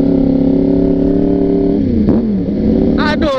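A Yamaha R1 sport motorcycle's engine drones steadily up close, then its pitch dips and swells in a short rev. Faint chatter comes in near the end.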